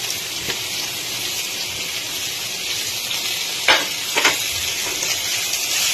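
Onions frying in a pan for a Bengali fish roe bhuna give a steady, close sizzle throughout, with a couple of brief scraping or stirring bursts near the end and no talking.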